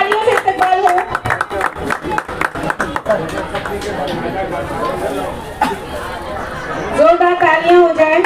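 Crowd clapping at a mass wedding ceremony for five couples held as a birthday celebration, bursts of claps mixed with chatter and an announcer speaking loudly over the hall.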